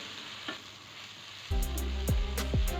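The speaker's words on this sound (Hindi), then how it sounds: "तो अब हमने जो चने फ्राई करके रखे थे वो डाल देंगे। और इसको हम अच्छे से मिक्स करेंगे।" Fried chickpeas drop into a hot pan of chilli chana sauce with a sudden loud sizzle, followed by steady frying and scraping stirs, close and continuous with no talk.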